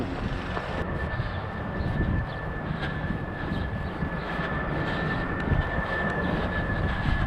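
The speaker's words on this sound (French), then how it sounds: "se rajoute le bruit des avions." A steady, broad roar of airplanes passing overhead at Saint-Georges-sur-Meuse, Belgium, rumbles continuously with a faint whine on top, loud and sustained throughout without any talking.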